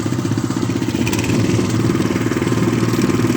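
A walk-behind tractor engine churns through snow, a close, loud, chugging single-cylinder putter with a rapid regular beat that firms up and steadies after the first second, and no talking over it.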